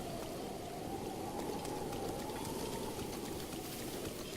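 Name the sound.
rain in Breath of the Wild video game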